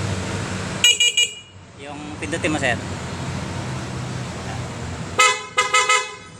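Several short, bright beeps from a stock horn on a Honda Click 125i scooter in quick bursts, sounding close, separated by engine idle and a brief spoken request.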